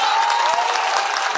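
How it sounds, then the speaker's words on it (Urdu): An audience at an Urdu poetry gathering (mushaira) claps loudly and steadily throughout, a dense, sustained burst of applause with some crowd noise and no pause. "میں چاہتا ہوں کہ ایک بار زوردار تالیاں اس مشاعرہ کمیٹی کے لیے بجا دیں۔"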